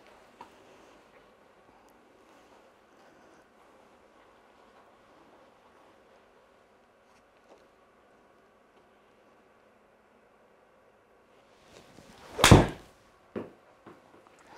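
A golf club strikes a ball in one sharp, loud, close impact after a quiet stretch of room hum, followed by a couple of softer knocks.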